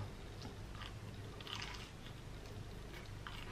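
Fried chicken from a KFC bucket being bitten and chewed up close, with soft crunching and wet squishing bursts spread across a steady background, and no talking.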